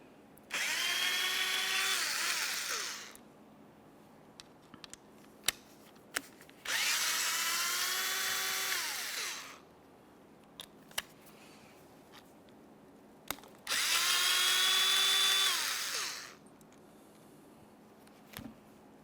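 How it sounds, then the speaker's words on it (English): Power driver with a T25 bit backing screws out of a 2011-2020 Toyota Sienna door during window regulator work: three separate whirring bursts of two to three seconds each, close and moderately loud, with small clicks and clatter between them. "We'll use our T25 to remove these screws"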